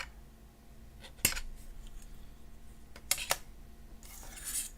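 Scissors snipping material while making Halloween fairy pendants: a few sharp, close cuts in two quick clusters against a quiet background, then a softer rustle at the end.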